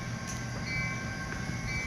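Model NS SD60M locomotive sound unit plays a steady, moderately loud engine hum with a faint tonal whine, no voices over it.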